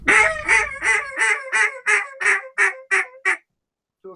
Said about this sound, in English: I'll show you what the Cajun squeal sounds like